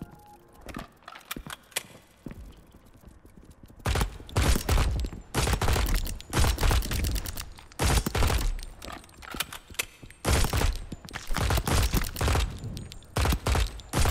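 Rapid automatic gunfire from a weapon in the video game MILO, fought against a swarm of rats: quiet game sounds at first, then dense, loud bursts of shots in repeated volleys with brief pauses between them.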